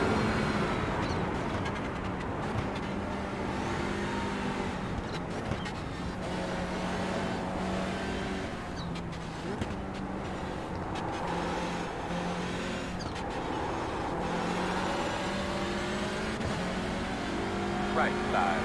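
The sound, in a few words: race cars in a video game, MX-5 and GT3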